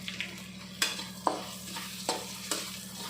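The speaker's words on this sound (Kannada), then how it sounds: "ನೀಟಾಗಿ ಫ್ರೈ ಮಾಡ್ಕೊಳ್ಳೋಣ." Coconut frying and being stirred in a pan for lemon rice, with a steady low sizzle broken by several sharp scraping strokes of the spoon at irregular intervals, close and moderately quiet, no voices.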